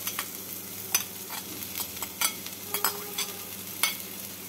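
Pumpkin and bitter gourd pieces fry in a pan while being stirred, with soft sizzling and a series of scattered scraping clicks from the spatula at close range.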